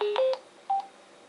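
A BlueAnt S4 hands-free car speakerphone plays its power-on chime, two short electronic beeps close together followed by a third single beep, clean and near, then quiet.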